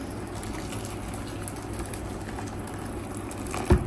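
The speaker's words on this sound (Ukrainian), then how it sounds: "додаю водички" Water poured into a pot of stuffed peppers, a steady, even wash of liquid noise lasting the whole stretch at moderate level, with a brief louder knock near the end and no talking.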